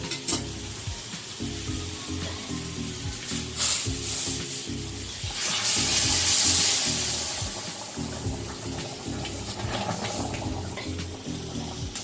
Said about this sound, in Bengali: এবারে গরম জল দেব